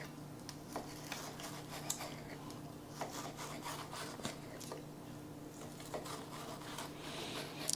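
A kitchen knife that could use sharpening works through food on a board in a quiet room. The cutting comes as a run of soft rasping strokes with small ticks, steady and close, and no one speaks.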